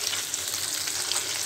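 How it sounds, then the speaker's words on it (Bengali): Rohu fish pieces frying in a pan of oil give a steady, loud, continuous sizzle and crackle that fills the whole moment with no voices. "সবগুলো মাছ দিয়ে ভেজে নিচ্ছি। মাছগুলো সুন্দরভাবে ভেজে নিন,"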